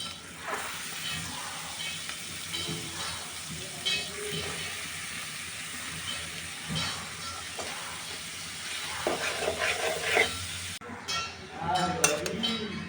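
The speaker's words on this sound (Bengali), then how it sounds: "এবার আমি মূলা শাকগুলো দিয়ে দেব।" Radish greens with salt and turmeric hit hot oil in a kadai, giving a steady close sizzle and frying hiss with occasional stirring clinks, running throughout with no talk.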